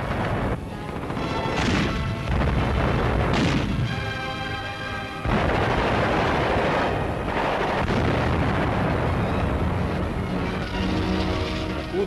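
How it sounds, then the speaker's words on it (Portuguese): Heavy tank cannon blasts boom repeatedly during a World War II firing exercise, loud and close, with rumbling echoes and crashing debris between shots. "Exercício de tiro. Cada tiro acerta."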